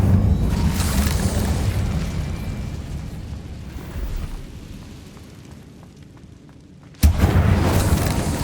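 An Incendio fire spell in Hogwarts Legacy erupts as a fiery whoosh and rumble that fades out, followed by a sudden sharp burst of flame or impact toward the end.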